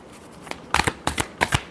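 Tarot cards being shuffled by hand in a few quick riffling bursts, close and fairly loud, with short pauses between them and no talk.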